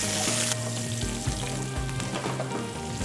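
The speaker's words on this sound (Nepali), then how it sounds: "अब हामीले अदुवा हाल्दैछौँ, अब लसुन, अब खोर्सानी, अब हामी एकछिन चलाउँछ फेरि यसलाई।" Ginger, garlic and green chili hit hot oil for chicken achar, crackling in a loud, dense sizzle while being stirred, with a burst of spitting at the start.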